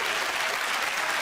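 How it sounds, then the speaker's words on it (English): A studio audience at a televised national IQ quiz show bursts into a brief, dense round of applause, loud and continuous throughout. "Round of applause, I think."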